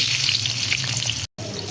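Potatoes frying in hot oil give a dense, close, continuous crackling sizzle that drops out for a split second near the end, then resumes, with no talking.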